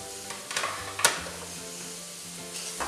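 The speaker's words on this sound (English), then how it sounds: "we're going to put some finely chopped garlic in with the oil" Finely chopped garlic sizzles in hot oil in a pan, a soft, hissing fry broken by a few brief clinks and one sharper spitting burst near the middle.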